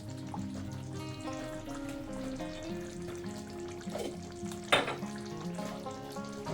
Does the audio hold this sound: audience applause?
no